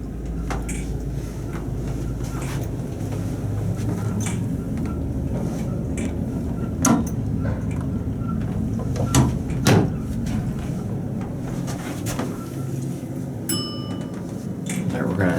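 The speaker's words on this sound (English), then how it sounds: "Elevator down." An old Shenandoah traction elevator at the Professional Arts Building descends with a continuous mechanical rumble, with clunks and knocks from its old sliding doors and machinery partway through, and a faint electronic tone near the end.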